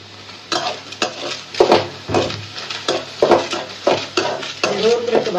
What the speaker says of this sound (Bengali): তো এই যে আমার চিংড়ি মাছটি ভাজা ভাজা হয়ে গেছে